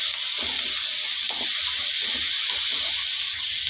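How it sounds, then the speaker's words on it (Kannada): Green peas frying lightly in a pan with a continuous hiss, steady and fairly loud, with faint low clatter underneath and no voices. "ಲೈಟಾಗಿ ಫ್ರೈ ಆದರೆ ಸಾಕು. ಬಟಾಣಿ ಹಾಕ್ಕೊಂಬಿಡೋಣ."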